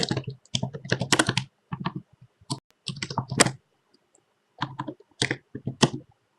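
Java code comments typed on a computer keyboard, close and crisp: clustered runs of clicking keystrokes broken by brief silent gaps.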